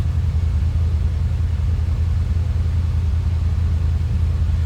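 A 1979 Chevrolet Corvette engine running, heard from behind the car, a steady deep low rumble with a close, even exhaust throb and no talking.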